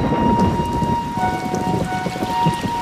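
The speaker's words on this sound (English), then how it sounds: "the rainy season descends on Copan." Heavy rain pours steadily during a thunderstorm at Copan in the rainy season, a dense continuous hiss of drops hitting surfaces with low rumbling thunder underneath, loud and close throughout with no voices.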